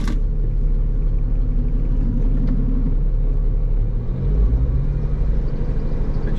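A Ford Mustang engine idles with a new vibration, a low, steady, throbbing rumble close by with a slight shift in its pulse partway through.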